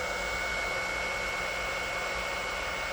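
A battery balancer works on a Tesla battery module inside a camper van, giving off a steady, loud whirring hiss with a faint constant whine and no change throughout.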